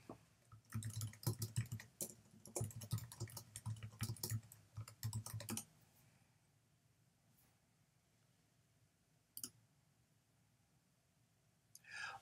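Rapid clicking of computer keys as a query is typed into a web search box, a dense burst of close, quiet keystrokes for several seconds, then near silence with one isolated click later.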